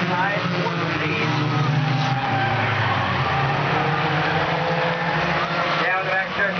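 Four-cylinder novice race cars roar around an oval track in a continuous, loud pack of engines, with a commentator calling the race over the noise throughout.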